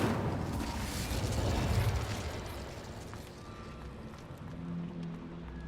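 An Incendio fire spell cast in Hogwarts Legacy bursts out as a loud, whooshing, roaring blast that swells for about two seconds, then thins into a quieter crackling tail with faint tonal hums.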